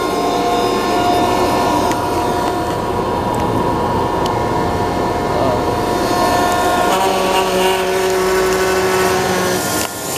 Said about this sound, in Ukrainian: Це, хлопці, запускає сівалку John Deere.